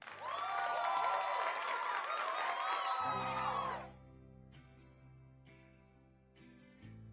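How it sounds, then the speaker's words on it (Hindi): An audience applauds and cheers loudly for about four seconds, the clapping mixed with whoops, before it cuts off and soft music takes over. "आपका जवाब सुनकर सब आपके जवाब के लिए तालियां बजाते हैं।"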